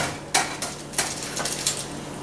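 London broil being turned over in a hot pan with metal tongs: a series of sharp clinks and scrapes of metal on metal, with a steady sizzle running underneath throughout.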